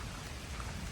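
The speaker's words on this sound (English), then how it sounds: "And we're getting rained on." Rain patters steadily on the Appalachian Trail near McAfee Knob, a dense, even hiss of drops hitting surfaces close by with no voices.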